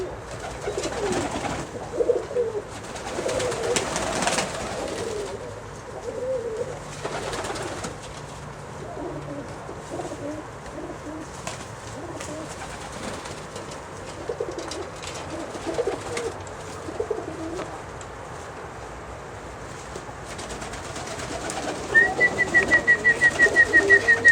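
Russian Statnyje pigeons of the Omsk and Siberian breeds cooing steadily in a loft garden among rhododendrons and azaleas, soft overlapping calls close by, with a thin high tone entering near the end.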